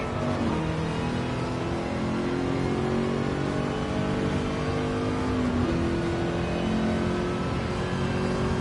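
Engine roar of two Lamborghini Countach race cars in Gran Turismo 7, a steady loud drone with rising and shifting revs as the pair accelerate together, no talking.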